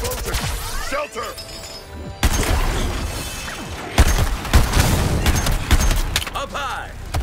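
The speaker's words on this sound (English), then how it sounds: "Here comes the explosion!" Explosions and heavy gunfire in the video game Suicide Squad Kill the Justice League, loud continuous crashing blasts and rapid shots with sharp booms, a speaker talking over the chaos.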